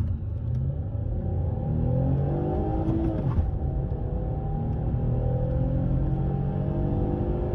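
A Peugeot 607's 3-litre naturally aspirated V6 petrol engine revs up and down close by, a deep throaty rumble that swells and eases repeatedly without any voices.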